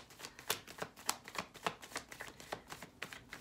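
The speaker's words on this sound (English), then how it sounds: "let me pull you your cards" Tarot cards are shuffled in a steady, rapid run of crisp riffling flicks, close and distinct, with no talking.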